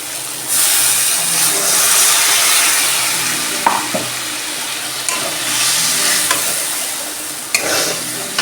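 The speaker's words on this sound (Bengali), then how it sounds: "এই যে মশলা দিয়ে তেল ছেড়ে এসছে, এবার জল দিয়ে দেবো।" Water poured into hot spiced oil for pabda fish curry sets off a sudden loud, close hiss that eases into steady bubbling sizzle, with a few clinks and stirring scrapes along the way.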